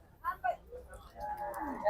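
Cattle at the crowded Gabtoli cattle market in Bangladesh give several short, nearby moos, including from a cross-breed cow, then one longer drawn-out low call over a busy market background.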